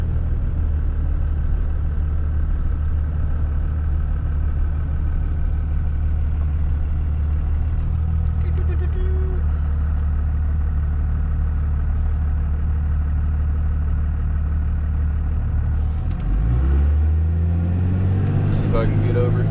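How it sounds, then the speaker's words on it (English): Cars pass on a road beside an idling Cummins diesel truck, a steady low engine rumble with a swelling pass-by near the end. "I'll let all these cars pass real quick."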